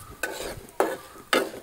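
Urad dal and chana dal frying together in a pan, three distinct stirring scrapes at roughly half-second intervals over a soft continuous sizzle, close and loud, with no talk.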